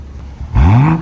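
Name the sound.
Toyota Supra engine revving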